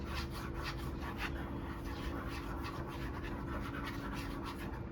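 A stick stirs orange cake batter in a bowl, giving a continuous close scraping and rubbing sound with a soft rhythmic swish as it moves through the thick mixture.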